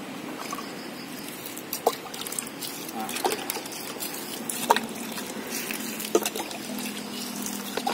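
Water splashing and trickling as it is poured over goat manure compost mixed with EM4 outdoors, a steady low wash with a few sharper splashes, moderately close and fairly quiet.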